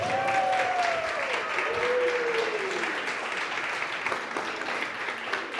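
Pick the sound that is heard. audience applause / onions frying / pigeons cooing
audience applause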